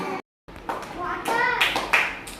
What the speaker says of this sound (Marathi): छान टाळ्या वाजवा